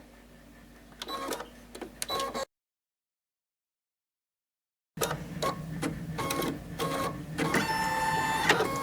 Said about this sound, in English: it's going to sew the first piece of fabric, or sew the actually the placement stitch for the first piece of fabric